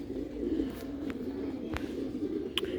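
Sialkoti breeder pigeons coo in low, continuous throaty murmurs close by, with a few brief sharper sounds breaking in now and then.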